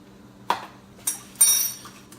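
Garlic, ginger and onions are stirred in a bowl with a utensil, giving three distinct clinks and scrapes spaced about half a second apart in an otherwise quiet room.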